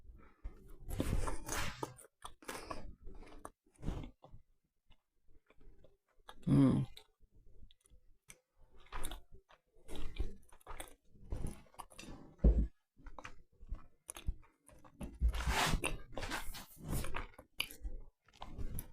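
Small bites of an air-fried cheese scone are chewed close to the mic, giving soft irregular crunchy clicks spread across the moment, with no talk.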